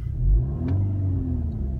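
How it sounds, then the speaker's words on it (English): A Volkswagen engine fitted with an Auto-Polar FIS Advanced display revs briefly as the accelerator is pressed, giving a quick rising growl that then settles into a steady idle-like hum. "If I was to put my foot down on the accelerator,"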